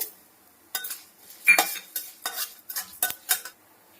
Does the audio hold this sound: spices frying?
yes